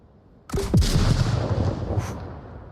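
M203 grenade launcher fired in the VR shooter Onward, a single sharp loud blast followed by a rolling boom and a second crack, alone without talk.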